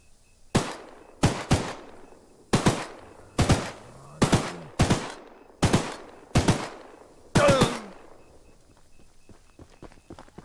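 Gunshots in the horror game Choo-Choo Charles: eight loud, sharp blasts fired one after another at roughly one-second intervals, each with a short decaying tail, then a quieter rumbling stretch at the end.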